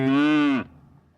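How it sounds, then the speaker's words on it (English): A cow's moo plays as a sound effect, one loud, close, drawn-out lowing call that cuts off abruptly and leaves a faint tail. "Gotta have a moo."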